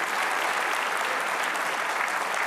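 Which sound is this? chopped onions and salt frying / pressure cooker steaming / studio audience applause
studio audience applause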